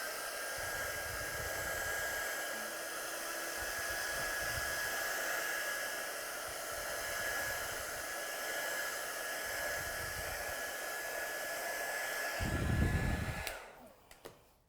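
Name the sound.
heat tool drying watercolour paint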